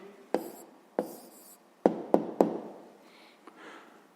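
A pen writes an answer to a sixth-grade maths exercise. Several sharp taps and knocks on a desk mix with faint scratching, close and quiet, with no talking.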